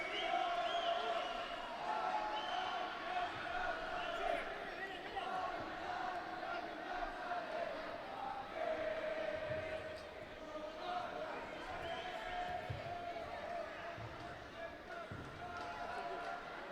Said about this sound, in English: the crowd is definitely warming up to these athletes